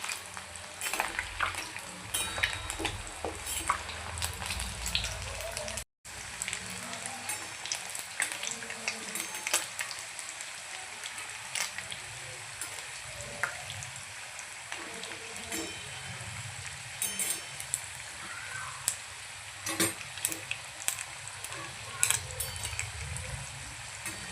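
Steady crackling and sizzling of chicken momos deep frying in hot oil, continuous and close, with scattered pops and a brief dropout partway through.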